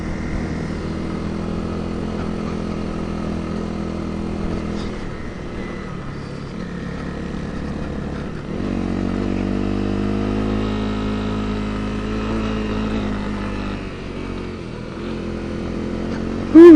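A Honda CRF dirt bike engine on a dual sport ride in Idaho drones steadily up close, then revs harder for the second half of the clip at high RPM, with no talking.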